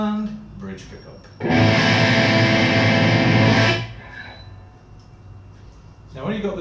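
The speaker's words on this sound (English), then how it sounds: "Now when you've got the distortion on" Distorted electric guitar from a 1981 Martin E-18 on its bridge pickup, a loud sustained strummed chord ringing for about two seconds between quieter playing, with a brief voice before and after.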